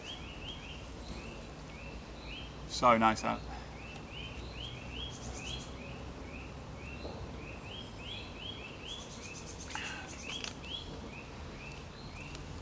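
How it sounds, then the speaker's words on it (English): Birds call outdoors at a campsite in a steady, distant chorus of repeated short chirps over a constant background hiss, with a brief louder burst near the start and a quiet remark spoken once. "Can you hear the birds?"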